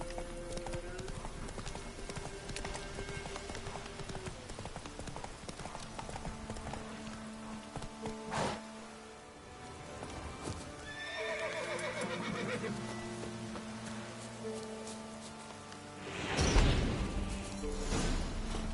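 Hooves of the horse Roach clip-clop at a gallop in The Witcher 3, with a loud neigh near the end over steady game music and effects.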